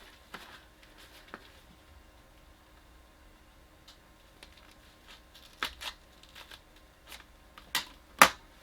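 Scissors snip small slits into a ribbon bow, giving quiet crisp clicks and rustles that get louder and sharper toward the end; no talking.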